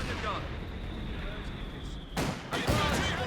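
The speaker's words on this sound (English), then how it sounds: "Mortar rounds dropping!" Mortar rounds exploding in the World War II strategy game Company of Heroes 2, two heavy booming blasts landing in quick succession late in a steady rumble of battle noise.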